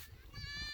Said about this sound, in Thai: แพะร้องยังไง